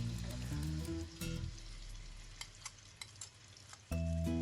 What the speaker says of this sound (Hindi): 3 से 4 मिनट तक भून लेंगे ताकि जो इसका कच्चापन है वो ख़त्म हो जाए।